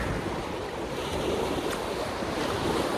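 Ocean surf rolls onto a sunny Valencia seaside beach in a steady, broad wash of breaking water mixed with wind rumble on the microphone, close and continuous with no voices.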